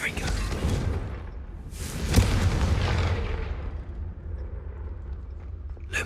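A Confringo spell explosion from Hogwarts Legacy bursts with a loud whooshing boom, followed by a second blast that decays into a long fading rumble.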